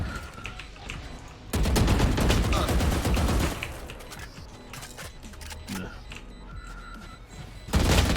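Gunfire from the video game Valorant comes in loud bursts of rapid shots, one long burst in the middle and another at the end. Quieter game sounds fill the gaps, and players talk faintly in between.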